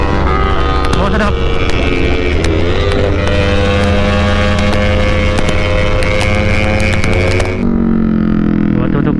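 A Kawasaki Ninja motorcycle with a changed GP chip roars loudly up close, its engine note holding high and strained before it suddenly drops to a lower idle hum near the end.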